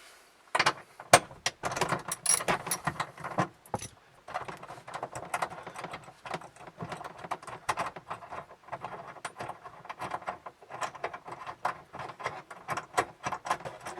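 A 10mm bolt is worked loose from the tailgate handle of a Toyota Sienna, giving dense, irregular ratcheting clicks and small metallic taps close by for the whole stretch, with no talking.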